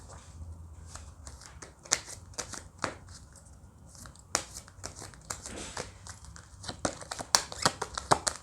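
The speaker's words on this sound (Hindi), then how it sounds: "Now let's see these cards." Tarot cards are shuffled close up in a quiet room, with a quick series of sharp riffles, slaps and paper crinkles that come in irregular bursts and grow busier toward the end.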